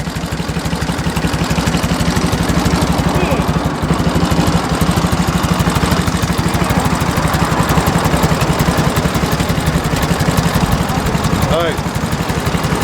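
A 1935 Indian motorcycle with a foot clutch runs at idle, a loud, close, rapidly pulsing engine beat holding steady throughout, with people speaking over it.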